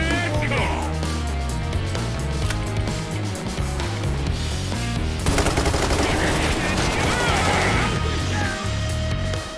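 Gunfire in the video game Payday 3, with bursts of rapid automatic shots rattling through a dense mix of game music and effects, growing busier and louder partway through.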